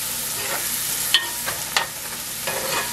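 Cauliflower fried rice with garlic and a pinch of Himalayan salt stirred in a pan: a steady low sizzle broken by a few quick scraping strokes and light taps of the spatula.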